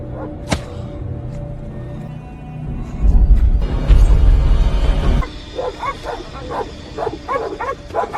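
Hungry dogs bark in repeated sharp bursts in a movie scene, growing busier toward the end over a rumbling background.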